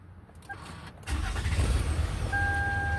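A car engine cranks briefly and catches, then settles into a steady, close idle with no talking.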